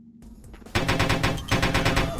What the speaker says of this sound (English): if I just keep shooting at them